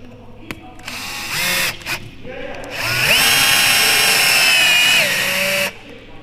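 Bosch cordless drill driving a screw, with two short whirring bursts followed by a longer, louder sustained run that rises in pitch and then stops, heard up close with no talk.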